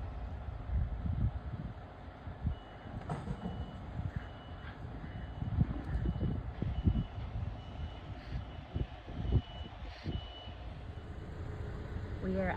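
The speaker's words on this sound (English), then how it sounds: "there's a truck that is loading something up and it's very noisy" A truck loading something nearby at a cemetery, with steady reversing beeps over a continuous low engine rumble and scattered clatter, close and fairly loud throughout.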